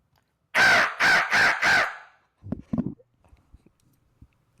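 A person imitates a crow's call with their voice: four loud, evenly spaced cawing bursts close to the mic, followed by a few fainter short knocks and clicks.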